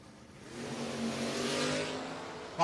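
Chevy Camaro and a 1967 Ford Mustang launching in a no-box drag race, a distant engine roar swelling in volume over a couple of seconds before a sharp louder burst at the end.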